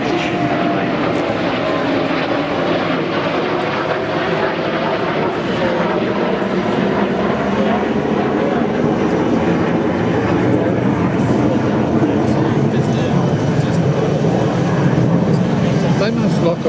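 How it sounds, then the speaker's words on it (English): Loud, continuous aircraft engine roar from an RAAF KC-30A tanker flying past with F/A-18 jets in close formation at an airshow, a steady drone throughout with an announcer's voice over the PA beneath it. "The aircraft is sitting only 20 metres behind the KC-30 and a beam to tail."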